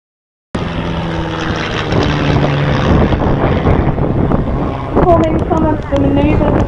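A propeller aircraft flies an aerobatic display at a military show, a continuous loud engine drone that rises and shifts in pitch, with wind buffeting the microphone.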